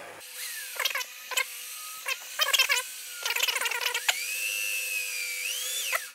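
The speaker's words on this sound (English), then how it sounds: "So this drill is gonna poke through the other side of the terracotta pots in a second." A power drill whines steadily, bursts of grinding as the bit bites into a terracotta pot, then a sustained high drilling tone near the end as it pokes through.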